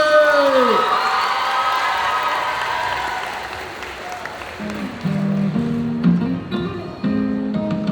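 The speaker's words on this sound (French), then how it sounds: "je vous prie de faire un tonnerre d'applaudissements pour Seria qui nous cosplay Venti en forme Archon" A cosplay contest crowd at a geek festival applauds and cheers for a Venti Archon-form cosplayer, a loud wash of clapping and whoops that slowly thins as music with a sung melody begins underneath.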